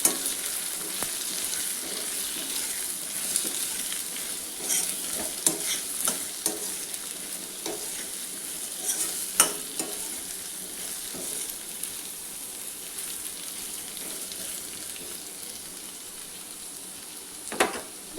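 Bottle gourd curry stirred in a pan, a steady soft sizzle of frying with scattered scraping clicks from the spoon, close and moderately quiet, with no talking.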